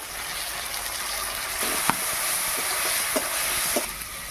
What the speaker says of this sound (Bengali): টমেটো আর পেঁয়াজ একসাথে বেশ ভালোভাবে নেড়ে ছেড়ে নেবো